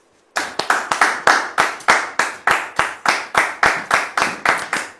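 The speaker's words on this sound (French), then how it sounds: "Merci donc de la recevoir sous vos applaudissements, s'il vous plaît." A crowd applauds steadily, a dense wash of hand claps that starts abruptly and keeps going with a rhythmic pulse, fairly close and loud.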